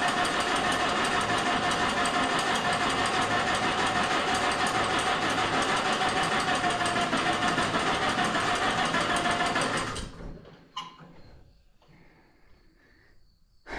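An engine with a carburetor problem runs rough just after starting, a steady dense clattering drone that cuts off abruptly near the end and leaves faint rattles and near silence.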